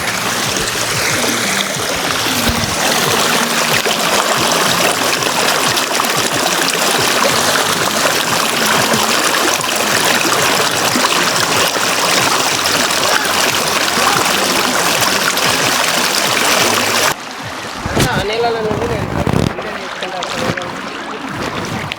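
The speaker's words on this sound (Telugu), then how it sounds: "వాటర్ సౌండ్ వస్తుంది కొంచెం, ఇక్కడ సౌండ్ కోసం క్యాప్చర్ చేస్తాను." A stream flowing on a trek to a hidden waterfall: a loud, continuous rush of water close by that drops abruptly near the end, leaving quieter splashing and handling noises.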